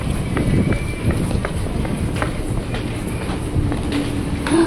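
A KRL commuter train pulls in at a busy Depok platform, its wheels rumbling and clattering close by with a few faint squeals, while people talk in the crowd around it.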